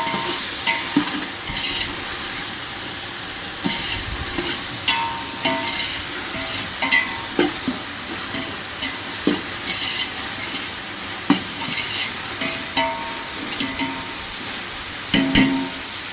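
Mutton pulao stirred in a pot, a steady close sizzle with frequent scraping and clinking of the spoon against the pot throughout.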